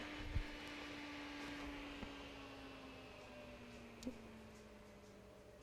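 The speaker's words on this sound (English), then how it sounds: "Fan is sounding better." The cooling fan of a Dell Alienware X51 R2 desktop under repair runs with a quiet, steady hum and a soft whirring tone, plus a few faint ticks, and nobody talks.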